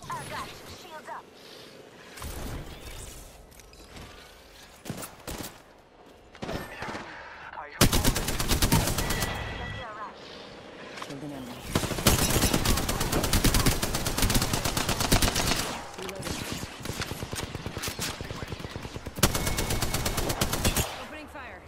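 Automatic gunfire rattles in long bursts in a video game, loud and close, broken by brief pauses and single shots, with players talking between and over the shooting.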